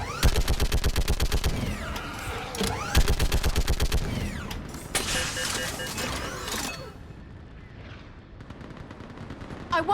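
Rapid automatic gunfire rattles in bursts during a Mass Effect 3 battle, loud and dense, then fades into mechanical whirring and distant rumbling before a few more shots return.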